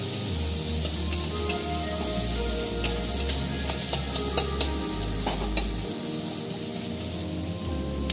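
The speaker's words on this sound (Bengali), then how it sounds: "পেঁয়াজটা একটু হালকা ভেজে নেব" Sliced onion and green chili sizzle steadily in an oiled pan for an egg omelette curry, with a continuous fry hiss broken by scattered spatula scrapes and stirring clicks, close up, no voices.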